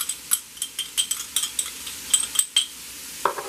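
Minced garlic and spaghetti squash stirred in a pan: a spoon taps and scrapes the metal in a quick irregular series of clinks over a faint sizzle, close and alone.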